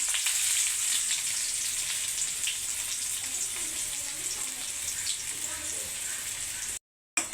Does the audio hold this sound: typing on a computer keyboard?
no